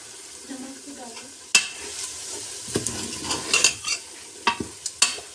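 Minced meat with ground cumin and dried coriander frying over lowered heat for keema pyaz, with a steady soft sizzle broken by scraping stirs and sharp clinks of a spoon against the pan.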